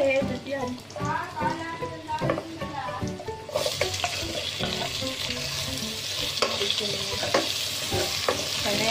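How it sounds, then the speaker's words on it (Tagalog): Garlic frying in hot cooking oil in a pot, a steady close sizzle that swells sharply about midway as the garlic hits the oil, with stirring and a voice speaking over it. "pag mainit na ang kaldero, lagyan ng mantika. At pag ilang minuto, mga dalawa, pwede na ilagay ang bawang."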